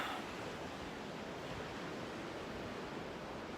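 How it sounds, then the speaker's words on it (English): Steady broadband wash of sea surf near Gibraltar, continuous and even with no distinct wave breaks, with no voices. "That's the sea right there."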